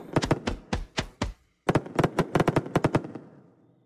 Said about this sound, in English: this detonation sound does not work for me.